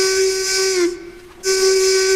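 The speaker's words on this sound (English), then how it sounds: "That's the noise that Tubby makes on his steam whistle." A harbour tugboat's steam whistle gives two loud, sustained tonal blasts with a hissy edge, separated by a short dip, close and clear with no talk.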